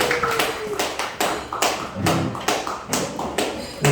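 Audience members clap at an open-air regional music concert in a Daejeon village: a series of sharp, evenly spaced claps close by, falling into a steady rhythm.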